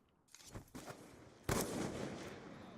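Gunfire in a competitive shooter video game, a few quick shots followed by a louder burst and sustained noisy rumble, moderately close with no speech.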